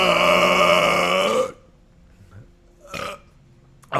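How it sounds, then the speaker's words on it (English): A long, loud, rumbling burp lasts about a second and a half, then tapers into quiet room noise with a couple of brief faint sounds afterward. "that was a good burp."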